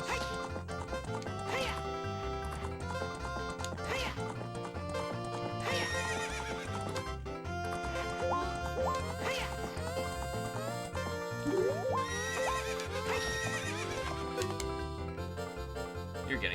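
A horse in the corral of Zelda: Ocarina of Time neighs and whinnies while its hooves clip-clop steadily, all set against loud, continuous game music.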